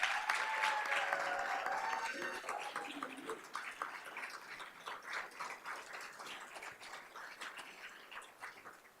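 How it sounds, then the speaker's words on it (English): An audience applauds educator award recipients at an Educator of the Year ceremony, a full round of clapping that starts strong and gradually thins and fades over about nine seconds. "Let's hear one more round of applause for them."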